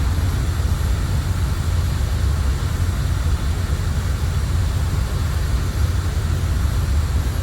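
IndiaFoxtEcho MB339 jet in a flight simulator climbing away just after takeoff, with a loud, steady engine roar and deep low rumble holding unchanged throughout, no talk over it.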